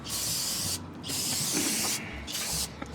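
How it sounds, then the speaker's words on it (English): Brake cleaner sprays onto the brakes of a 1972 Ford 4x4 truck in three loud, close hissing bursts, each a second or so long, separated by brief pauses. "Like always, you kind of just want to spray everything down with brake cleaner real good."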